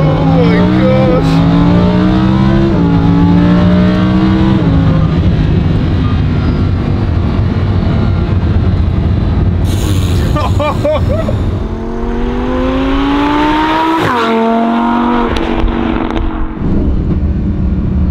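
Lamborghini sports car engine revving and accelerating through rising gear changes from inside the cabin, loud and close, with people talking over it.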